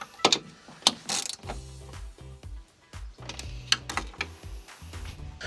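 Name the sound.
tightening bolts on a Honda Civic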